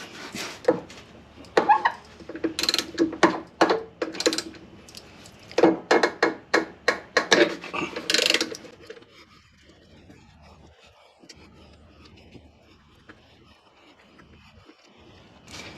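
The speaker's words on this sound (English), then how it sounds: "I've got a 14mm wrench" A 14mm wrench working a bolt on a Yamaha VF200LA outboard, a series of close metallic ratcheting clicks and knocks in irregular bursts for several seconds, then fading to quiet handling sounds.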